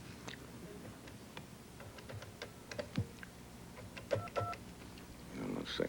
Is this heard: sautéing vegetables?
no